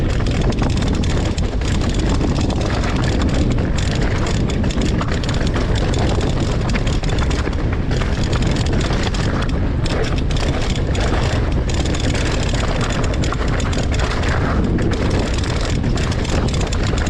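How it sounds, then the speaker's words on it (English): Strong wind buffets the microphone on a mountain bike trail at Hartbeespoort during a Trek Slash test ride, a loud, continuous roaring rush with no voices. "Whoa, it's windy."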